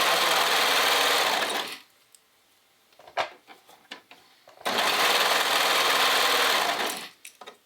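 A serger runs in two long, loud bursts while stitching a seam on a t-shirt dress, with a pause of small clicks and handling noises between the runs.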